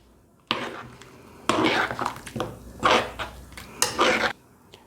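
Spoon scraping and clinking in a pan as cooked green peas are stirred into cauliflower kurma, a few distinct bursts of metallic scraping separated by brief pauses, close and moderately loud.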